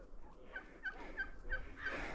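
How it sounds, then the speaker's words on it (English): A wild turkey gobbles in a quick rattling series of about five clipped calls at a moderate distance, heard outdoors over low wind and road rumble. "It's a wild turkey."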